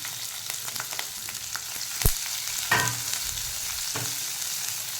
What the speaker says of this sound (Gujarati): જીરું થાય એટલે આ કેપ્સિકમને કોબીજને એડ કરી દેવાની